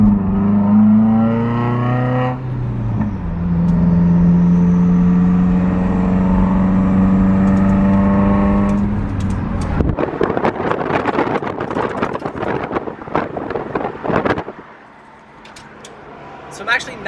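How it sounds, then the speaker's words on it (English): Subaru WRX with a loose exhaust pipe, heard first as a steady drone of the car driving, then as a burst of rapid clattering, banging and scraping from underneath before it eases off. "it's banging and scraping and scratching, and it's all the wrong noises you do not want to hear"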